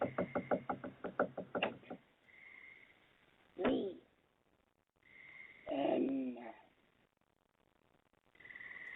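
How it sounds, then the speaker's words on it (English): Knocking on the back door of a house in low-quality played footage: a quick run of about ten knocks, followed by muffled, voice-like sounds and background hiss. "they scratch and knock on the back door"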